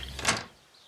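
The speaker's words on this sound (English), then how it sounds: "You should open the door before they bring the house down." An old storage room door opens with a single quick scraping slide that fades into quiet.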